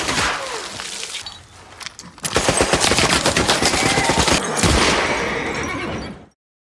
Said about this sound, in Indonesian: Tembakan demi tembakan pecah, mengubah rumah sakit menjadi medan perang.